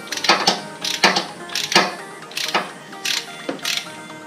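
Ratcheting clicks from a size 16 Logitech spark plug wrench loosening the spark plug on a Yamaha Nmax scooter, in several close bursts of sharp metallic clicks with no talking.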